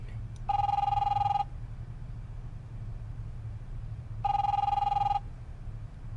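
A telephone rings twice in The Wolf Among Us game, each electronic ring lasting about a second and separated by a long pause over a low background hum.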